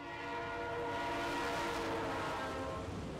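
A train rumbles past steadily through Flagstaff, Arizona, with a sustained horn-like drone over the rolling rail noise, fairly loud and close.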